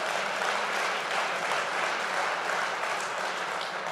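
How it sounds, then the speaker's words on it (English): A political rally crowd in Iowa applauds steadily, a dense wash of clapping that stays fairly even for several seconds with no voices over it. "absolutely applaud that."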